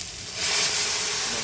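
Mung beans dropped into a hot pot for cooking monggo: a sudden loud hiss and sizzle bursts up after a quiet start and holds steady, close and continuous.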